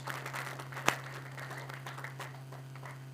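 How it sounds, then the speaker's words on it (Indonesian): Faint, distant applause patters through a quiet church hall, marked by one sharper clap and a steady low electrical hum beneath. "Beri tepuk tangan terbaik buat Tuhan Yesus"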